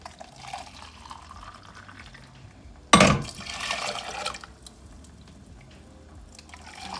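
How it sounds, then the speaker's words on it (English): A sudden rush of water poured into a pot, splashing loudly for about a second before easing into a quieter trickle over low background hum. "So I'm gonna use some boiling water."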